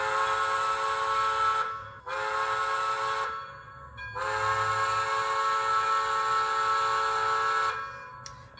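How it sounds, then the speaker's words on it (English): Steam whistle from a Bachmann On30 2-6-6-2 model locomotive fitted with a TCS sound decoder, sounding three sustained blasts with short gaps between them, loud and close, hissing under each blast. "The final blow of the whistle."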